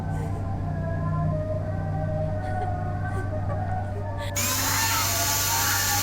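Power drill whirring in a video game, a loud, steady motorized whine that holds throughout before shifting sharply in pitch near the end, with no one speaking over it.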